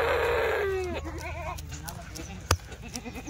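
A goat bleats loudly and close by in a wavering call at the start, followed by fainter bleats while someone talks over it.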